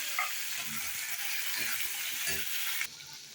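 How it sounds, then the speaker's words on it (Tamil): Three tomatoes and a little coriander sauté in a pan with a steady close sizzle, broken by a few soft stirring scrapes and clinks, then the sizzle drops slightly near the end. "ஒரு 3 தக்காளி, கொஞ்சமாக கொத்தமல்லி போட்டு நல்லா வதக்கிக்கணும்."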